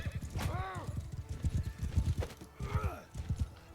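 Galloping horse hooves in the medieval combat game Mount and Blade II Bannerlord, a steady rapid clip-clop close up, with two whinnies rising over the hoofbeats.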